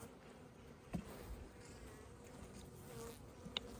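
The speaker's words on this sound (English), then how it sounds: "With all this brood that's hatching, look at all those young bees." Honey bees buzz around an open hive during a March inspection, a faint, steady insect hum with a few soft clicks and knocks from nearby handling.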